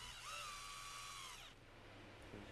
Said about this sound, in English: drill a pilot hole into the joist and fasten with the appropriate length screw.